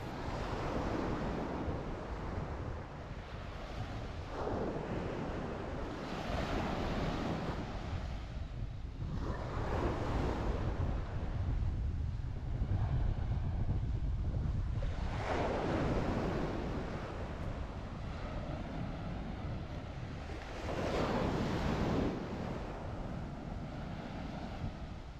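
Surf rolls onto the beach at Playa Farallon near Rio Hato, Panama, with waves breaking in slow surges every few seconds over a steady wash and some wind noise, no voices.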